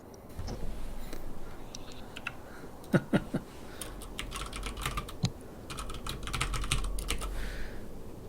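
Irregular clicking of keys on a computer keyboard, quick bursts of taps with a few sharper strikes, close by against a quiet room.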